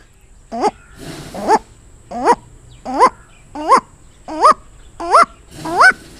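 A voice imitates the short call of an owl sitting alone, repeating a hooting call eight times at an even, steady pace with brief pauses between.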